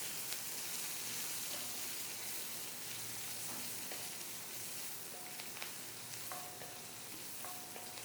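Garlic, ginger, green chili and curry leaves sautéing in hot oil make a continuous close crackling sizzle, with faint spoon taps and light pops scattered across the steady frying hiss.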